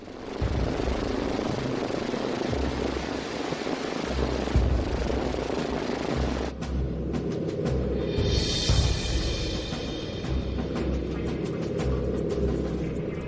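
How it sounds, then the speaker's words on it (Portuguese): Steady, loud drone of an American bomber's engines in flight, a continuous throbbing roar that holds throughout without a break. "É sua primeira viagem em um bombardeiro americano."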